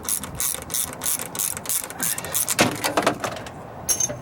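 A ratchet wrench clicks in quick, close bursts while loosening 11mm exhaust manifold bolts on a Cummins 4BT/6BT engine, a steady run of pawl clicks with brief pauses and a metallic clunk near the end.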